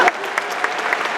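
Audience at a mimicry and ventriloquism show during a Sankranthi event clapping in a quick, dense burst of applause, close and fairly loud for about a second.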